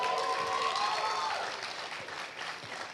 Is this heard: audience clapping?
yes